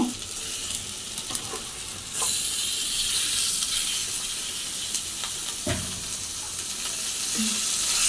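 Beef cooked with ground spice paste sizzles and hisses steadily in a hot pan nearby, with occasional scrapes from stirring and no voices.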